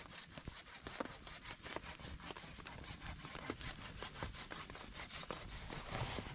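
A hand saw rasps through wood in quick, regular back-and-forth strokes at a wilderness canoe campsite, fairly quiet and close, with no voices.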